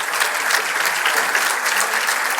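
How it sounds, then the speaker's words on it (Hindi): Loud, dense applause from an audience at a youth gathering addressed by a governor, a steady wash of clapping held close and unbroken. "जिस प्रकार से आप ताली बजा रहे हैं ना"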